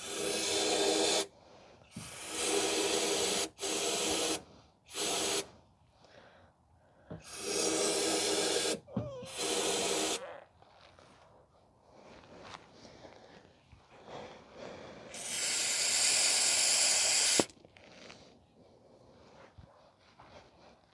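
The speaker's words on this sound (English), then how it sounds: "So we're gonna spray some brake cleaner to clean all the dirt and debris that's in there." Brake cleaner sprayed from an aerosol can into the hitch bolt holes on a Pontiac Vibe / Toyota Matrix, heard as several loud hissing bursts of varying length, with a longer final spray and quieter handling noise between.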